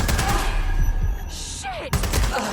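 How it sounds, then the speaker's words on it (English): Gunfire erupts in the Watch Dogs Legion video game during a firefight, with loud bursts and cracks in quick succession, a brief lull, then another sharp report near the end. "Taking fire!"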